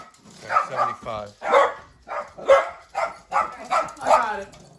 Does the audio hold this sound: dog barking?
yes